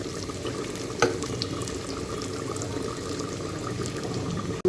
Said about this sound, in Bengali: সুন্দর করে বেরেস্তা করে ভেজে নিব পেঁয়াজ